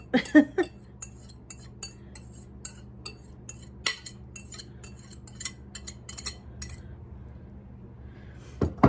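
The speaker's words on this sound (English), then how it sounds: "you would take your spatula and just kind of move things around" A metal spatula scrapes and taps on a cookie sheet while shifting a prosciutto mixture, giving a string of light, sharp clinks and scrapes at an irregular pace, close and clear, with no talk.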